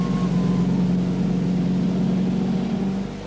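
Triumph rally cars pull in for scrutineering at the 1973 Sanremo Rally. A loud, steady engine drone holds at an even pitch, then drops away slightly at the very end.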